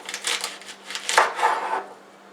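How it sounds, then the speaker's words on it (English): A knife chops celery on a cutting board in a quick series of close, crisp knocks and scrapes that fade out toward the end, with no talking. "I'm just chopping up the celery."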